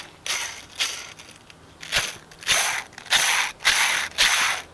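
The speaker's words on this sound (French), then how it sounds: "Ça c'est le bruit de la butée." Worn clutch release bearing on a Renault Megane RS with a torn boot, giving repeated ratcheting, grinding mechanical bursts, about eight in a rough rhythm, close and moderately loud with no talk.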